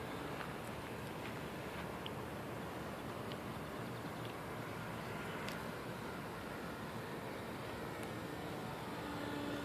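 An RC airplane powered by a Blue Wonder electric motor flies at full throttle, its motor giving a steady whining drone under broad outdoor wind-like noise at moderate distance, with no talking.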